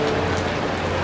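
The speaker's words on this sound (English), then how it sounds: "enjoy this cooling light drizzle" Light drizzle at an outdoor coronation ceremony in Maine: a steady, soft hiss of fine rain falling on surfaces, continuous and even throughout with no voices.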